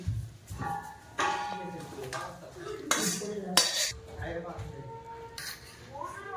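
Cooked food is tipped out of a pan with metal utensils, giving loud clinks and scrapes against the cookware in uneven bursts while a voice talks throughout.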